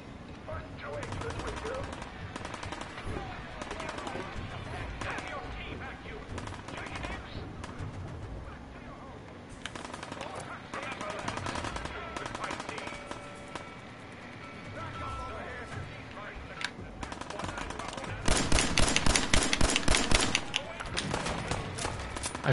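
Gunfire in the Fallout 4 video game, repeated shots and rapid bursts throughout, growing denser and louder near the end, with a voice talking over the game sounds.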